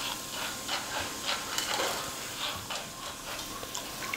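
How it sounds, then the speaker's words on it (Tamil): Roasted gram (pottukadalai) dry-roasting lightly in a pan for a mixture snack gives a soft continuous hiss with faint scattered ticks and rattles, steady and close, with no talking. "பொட்டுக்கடலையே கொஞ்சம் லைட்டாக வறுத்து எடுத்துக்கலாம்"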